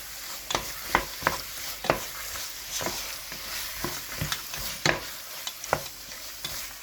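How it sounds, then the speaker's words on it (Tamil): Rabbit curry gravy stirred in a pan in a village-style kitchen, a spoon scraping in repeated strokes roughly every half second over a steady bubbling sizzle, close and fairly loud, with no talking. "நல்லா கிண்டி விடலாங்க"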